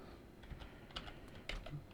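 Quick clicks of typing on a computer keyboard, a short irregular run of keystrokes, close and fairly quiet, with no talking.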